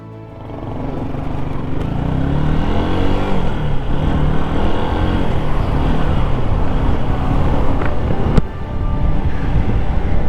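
Yamaha YZF R125 motorbike riding on an open road, its engine droning steadily under heavy wind rush that builds after the first couple of seconds and holds loud, no talk.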